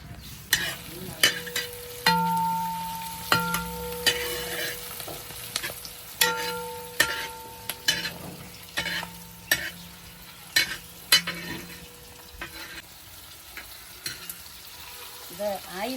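Sliced onion and capsicum sautéing in hot oil in a kadai for a mushroom gravy, a steady sizzle broken by repeated sharp scrapes and clinks of a spatula stirring, close and fairly loud with no talk.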